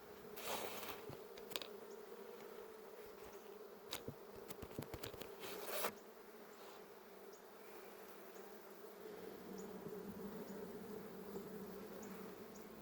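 Honeybees buzz steadily around an open hive during a dearth, a continuous droning hum with a few louder, closer passes early on.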